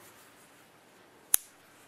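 A Gerber 1471 multi-tool folding shut, a single sharp metallic click standing alone against faint room hiss.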